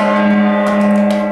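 A gong is struck as a signal during a draft recap show, its sustained metallic ringing hum holding steady and loud with shimmering overtones throughout.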